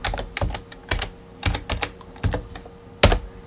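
Fingers typing a spreadsheet formula on a computer keyboard, producing irregular bursts of crisp key clicks with short pauses between them, close and clear with no talking.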